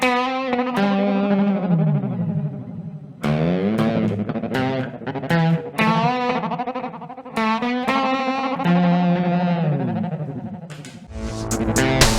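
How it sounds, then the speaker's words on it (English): Guitar phrases through a ring-modulator-like stutter delay, with choppy, stuttering repeats and a metallic, warbling distorted tone, playing alone in several bursts. "It's almost like a ring modulated delay in a way."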